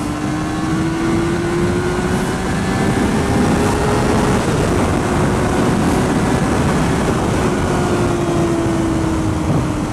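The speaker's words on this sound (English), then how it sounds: "It's like a troop of completely random motorbikes" A group of motorbikes passes close by, their engines a loud continuous roar with a sustained droning pitch that slowly rises and falls, recorded from a rider's position on a 2010 Honda CBR 600RR.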